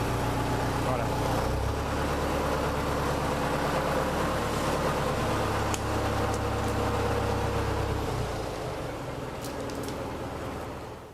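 A farm tractor's engine runs steadily at a low, rumbling idle while being brought in to lift a downed dairy cow, its drone shifting slightly partway through and easing off near the end.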